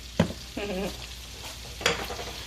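Sausage sizzles as it browns in a pan, with a couple of sharp stirring scrapes and a soft steady frying hiss underneath.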